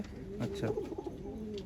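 Pigeons in a loft in Garia give a low, rolling coo close by, steady and soft, while a voice briefly says a word over it.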